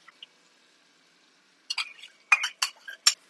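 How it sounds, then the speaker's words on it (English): Homemade natural yogurt whisked in a bowl, a few quick bursts of wet clicking strokes after near silence, close and crisp, with no talk. "And also our yogurt, which I'm just going to whisk a little bit, just so it doesn't split apart"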